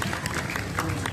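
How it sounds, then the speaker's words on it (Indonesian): Children at an elementary school Ramadan event clap together, brief, busy applause mixed with crowd murmur and a voice in the room. "Kepada Kang Nurul, mohon tepuk tangan yang meriah"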